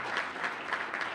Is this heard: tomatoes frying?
no